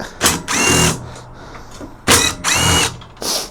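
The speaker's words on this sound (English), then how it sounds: "Don't know if I'm going to be able to get in with my drill on this one." Power drill driving bolts into the swivel base of a Fiat Ducato campervan, heard as two loud, close bursts of whirring and ratcheting with short pauses and a brief third burst at the end.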